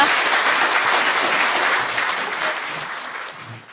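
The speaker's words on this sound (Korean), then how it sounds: "박수 한번 치고 이제 들어가는 걸로." Audience applause at a media-watch project event, loud and dense at first, then gradually thinning and fading toward the end.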